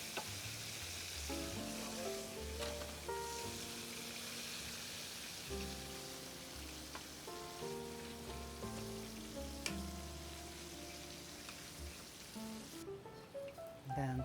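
Korean fried chicken coated in cornstarch crackles and sizzles steadily in hot oil, a dense close-up frying hiss with faint background music and no talking.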